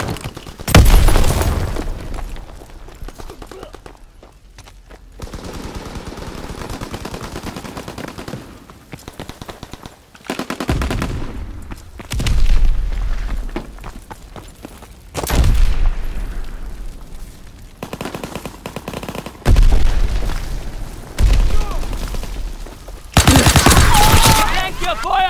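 Explosions and bursts of gunfire in Call of Duty WWII, with loud booms and rattling shots arriving in uneven waves between quieter stretches, a voice briefly heard among the battle noise.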